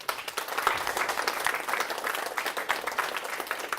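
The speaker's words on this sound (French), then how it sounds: "Je pense qu'on peut s'applaudir." Crowd at an annual general meeting conference applauds itself, producing steady, dense clapping with scattered sharper hand claps, sustained at an even moderate level throughout.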